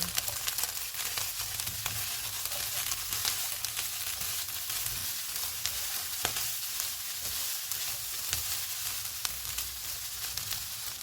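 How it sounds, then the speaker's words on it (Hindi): Capsicum and cabbage fry in a pan for chicken egg roll filling, a steady, soft sizzle with scattered crackles and light stirring clicks, no voices. "आधा कप शिमला मिर्च डालेंगे। 1 कप बंद गोभी, इनको भी 2 मिनट तक भूनेंगे।"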